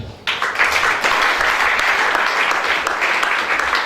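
A church congregation breaks into loud, dense applause after a sharp start, sustained clapping from many hands filling the space evenly for several seconds.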